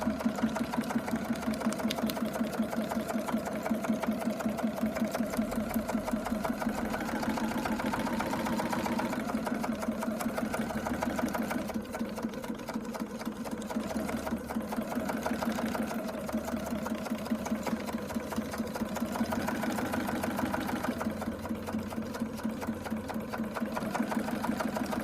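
A sewing machine stitches a Christmas card with a steady, rapid mechanical whir and rhythmic needle thumps that continue for the whole stretch, with brief pauses and shifts in pace as the card is turned.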